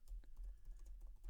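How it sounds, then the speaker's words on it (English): Quick, uneven clicks of fingers typing on a computer keyboard, close and soft, with rapid keystrokes following one another and no voices. "There's some good typing right there."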